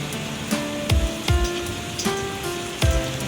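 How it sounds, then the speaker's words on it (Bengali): Heavy rain falling during a low-pressure storm, a steady wash of drops with irregular louder thuds and splashes close by, alone without voices. "এখন বৃষ্টিটা জোরে এসছে।"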